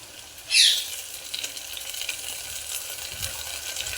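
Moong dal goes into a hot pan with green chillies and is sautéed for khichdi. A brief loud hiss rises as the lentils hit the pan, then a steady sizzle continues with light stirring scrapes.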